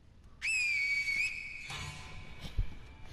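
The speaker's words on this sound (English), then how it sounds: "you're going to finger whistle him." A sharp finger whistle from the game Sekiro: Shadows Die Twice rings out alone, a loud steady tone holding for about a second before breaking off, followed by faint ambient game noise.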